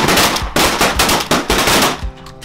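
Shotguns fire at ducks during a late-season hunt, four or five loud, close blasts in quick succession, each ending in a short ring.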